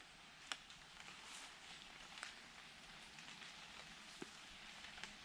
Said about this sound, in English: It's not heavy rain, so I'm not bothered.